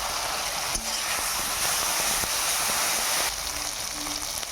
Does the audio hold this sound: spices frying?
yes